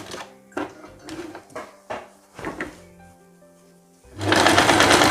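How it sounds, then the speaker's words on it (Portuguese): A sewing machine stitching a hem, with short bursts of stitching separated by brief pauses and handling thumps, then a loud sustained run of rapid stitching at the end, close up. "vai passar uma costura em cima dessa costura que já existe"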